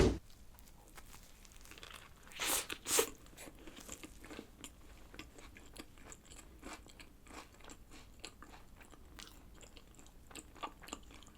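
Crunchy bites and wet chewing of a McDonald's arrabbiata ricotta chicken burger with a fried chicken patty, close to the mic: two sharp bite crunches early on, then steady soft mastication noises with no talking.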